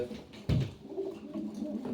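Soft cooing of pigeons or doves nearby, low murmuring calls over a quiet background with a brief louder thump partway through.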